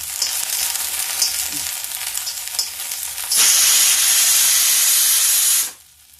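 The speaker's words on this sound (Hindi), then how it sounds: "देखिए लहसुन भी गर्म हो जाए थोड़ा सा।" Garlic sizzles in a hot pan on a gas stove while dal is being prepared, a steady crackling fry that swells into a louder, bright hiss midway before cutting off abruptly near the end.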